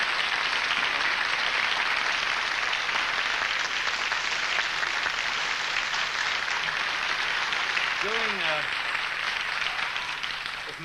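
Studio audience on a 1980 British chat show applauding Cliff Richard's entrance, a dense, steady wall of clapping that fills the room, with a brief voice surfacing near the end.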